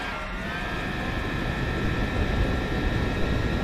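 Loud, steady aircraft engine drone in the combat flight game War Thunder, a continuous roar with a thin whine riding on top and no talk over it.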